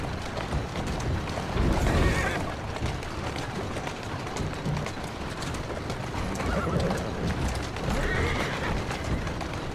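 Horses pulling a carriage in the video game Assassin's Creed Syndicate, with steady clip-clopping hooves, rolling wheels and loud whinnies near the start and again later.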